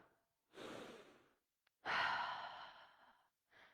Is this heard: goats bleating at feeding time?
no